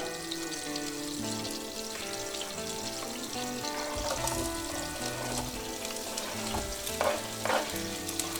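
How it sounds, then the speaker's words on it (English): Sliced onions frying in olive oil in a pan, a continuous close sizzle with music playing underneath and a few brief stirring clatters near the end. "And I'm gonna go ahead and add our onions that we sliced up."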